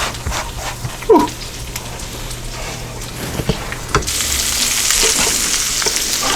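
Meat sizzles in a frying pan for a cheesesteak pizza, a hissing crackle nearby with stirring knocks and a dog's brief whimper, the sizzle growing louder toward the end.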